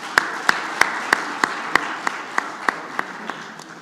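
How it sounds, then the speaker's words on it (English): At Umeme's company AGM, clapping for the board comes as about a dozen crisp, evenly spaced claps close to the microphone, a slow steady rhythm rather than a full crowd roar. "So this board really deserves a round of applause from you, I think."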